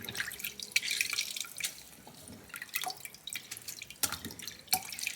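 Lemon juice is squeezed into a container of water while cleaning a fridge, giving a quiet run of drips and small splashes with a few sharper trickles, close by and alone with no talk.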